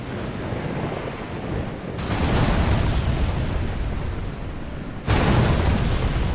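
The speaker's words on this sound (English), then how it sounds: "being blasted with fire cannon" Cannon fire in the naval video game Uncharted Waters Origin: two sudden loud booming blasts, the second harder, each jumping out of a steady ocean-like roar and sustaining a broad rushing wash.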